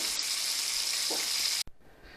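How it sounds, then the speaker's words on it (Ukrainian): Pies sizzle steadily in hot oil in a frying pan, a continuous close hiss that cuts off abruptly near the end, leaving a faint quieter crackle. "доки там пиріжечки смажаться"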